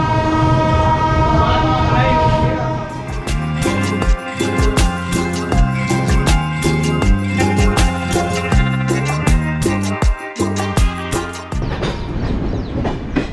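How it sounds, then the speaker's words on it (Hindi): Trains rumble past at Dasi Junction in India, a loud steady roar with repeated clickety-clack of wheels over rail joints and a horn sounding, continuous and close throughout. "यहाँ पे लगता है ट्रेनों की रेस हो रही है।"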